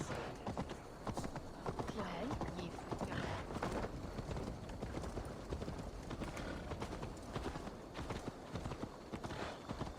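Rapid clip-clop of horse hooves in Assassin's Creed Valhalla under a steady rumble, a brisk continuous trot with faint voices mixed in.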